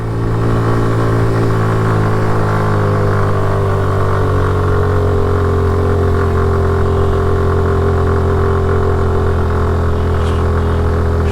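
A motorcycle engine labouring up a steep mountain road, a loud, steady droning hum with low rumbling tones held close throughout.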